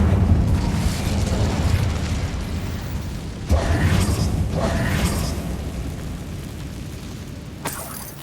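Incendio fire spell cast in Hogwarts Legacy inside an abandoned mine: a sudden whooshing burst over a constant rumbling backdrop, followed by a second flare and a short crackling tail.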